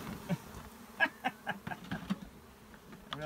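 Bees buzzing around during a bee removal job: faint, scattered buzzes and brief insect passes close by, irregular and short, under a quiet outdoor background.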